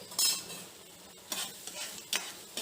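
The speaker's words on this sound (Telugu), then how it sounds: "టమాటాలు వేగుతున్నాయండి." Tomatoes frying in a pan for a South Indian spicy curry: a soft, close sizzle broken by a few sharp scraping bursts as the pieces are stirred, with no talking.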